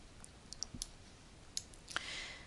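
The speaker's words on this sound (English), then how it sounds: "And then we'll click on OK again." A computer mouse clicking an OK button during software work, several small sharp clicks scattered across a couple of seconds, close and faint over quiet room noise.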